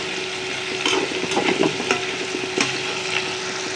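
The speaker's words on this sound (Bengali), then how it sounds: "পেঁয়াজটাকে ভালোভাবে ভেজে নেব" Onions frying in a pan with a steady sizzle, broken by irregular scraping and stirring clatters; close and fairly loud, no voices.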